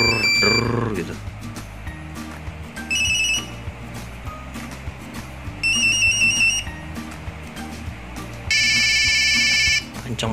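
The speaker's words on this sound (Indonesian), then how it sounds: "Kencang banget nada deringnya." A Nokia 3310 phone, a refurbished version of the old model, rings with a bright, repeating electronic melody in several short bursts. A low vibration buzz runs underneath, and a person talks between the rings.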